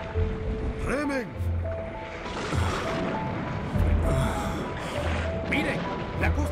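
Rowing a small boat through a stormy sea at night, heavy water splashes and crashing waves in repeated surges, with voices talking over the roar and background music.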